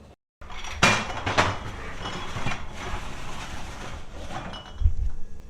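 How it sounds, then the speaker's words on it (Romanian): Glass jars on a tray being slid into an unheated oven: a clattering clink of glass and metal early on, then a softer rattle and a low thud near the end, with no talk. "le așezăm într-o tavă și le băgăm la cuptorul neîncălzit"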